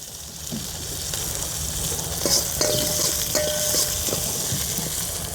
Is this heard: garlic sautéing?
yes